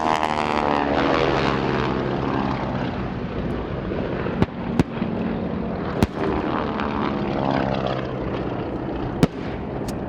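Nakajima B5N torpedo bomber flying at an air show, its propeller engine droning loudly and steadily overhead, with a few sharp pops or bangs cutting through the roar.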